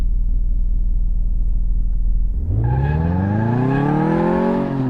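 A car engine in Car Mechanic Simulator 2018 on the test track: a steady low idle rumble, then a loud rising rev as the car pulls away and accelerates, with the pitch sweeping upward, close and unaccompanied by talk.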